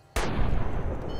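A single sharp gunshot in the video game Fallout New Vegas, a loud sudden crack at close range followed by a long booming reverberant tail, with no talk over it.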